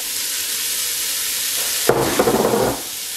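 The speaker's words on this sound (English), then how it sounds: "We just want to start softening them up and sweating them out before we add in our next ingredient." Vegetables sizzling in a pan as they soften for spaghetti sauce, a constant bright hiss, then a burst of stirring and scraping with quick clatters before settling back.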